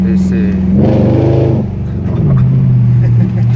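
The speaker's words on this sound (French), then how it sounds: "Elle monte, le moteur il ronronne" Low steady purr of a naturally aspirated Mercedes CLS 500 AMG V8 while driving, with a rising harmonic as it pulls, heard from inside under a man's ongoing speech.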